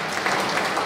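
A conference audience at re:publica 2018 breaks into applause, a brief, even wash of clapping filling under a second.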